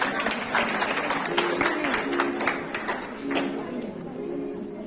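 An audience at a women's honour ceremony in Raipur welcomes a singer of Chhattisgarhi songs with applause. Sharp individual claps stand out over a crowd murmur, with voices talking underneath.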